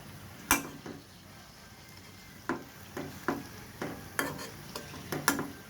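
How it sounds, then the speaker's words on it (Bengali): Mughlai paratha with egg and mung dal browning its edges in a pan, a soft steady sizzle broken by scattered clinks and scraping taps of a utensil against the pan, close and moderate, with no talk. "এই যে এই কোনাগুলো কিন্তু আমি সুন্দর করে ধরে ধরে ভেজে নিচ্ছি দেখুন"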